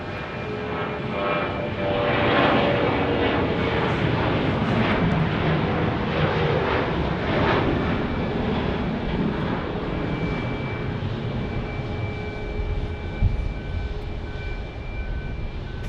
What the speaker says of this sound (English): Here comes United Airlines.